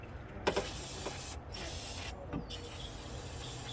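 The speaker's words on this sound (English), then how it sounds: "So you spray it." Hissy bursts from a spray can of cleaner come in several short blasts with brief pauses between them, close up against a steady background hiss, while working on a Toyota with a starting problem.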